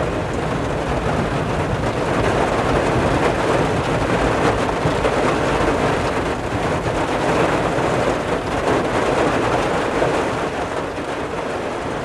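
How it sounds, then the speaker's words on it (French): Dense, steady patter of heavy rain drumming on tent fabric, loud and close, with a continuous rushing wash and no voices. "le bruit de la pluie sur une tente ou dans une canadienne"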